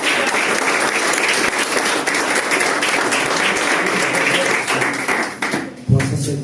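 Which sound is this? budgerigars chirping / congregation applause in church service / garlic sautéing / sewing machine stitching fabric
congregation applause in church service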